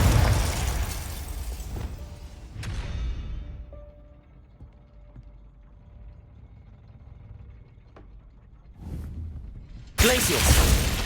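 A Confringo fire spell detonates in the Hogwarts Legacy video game, a loud boom that rumbles and decays over several seconds, followed by a fresh burst at the end, with game voices mixed in.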